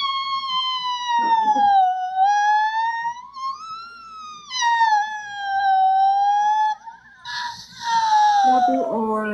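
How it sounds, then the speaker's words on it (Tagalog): An ambulance-style siren wails in a smooth, continuous rise and fall, loud and close, with a brief break and a rougher burst near the end. "Ambulansya ng bombero."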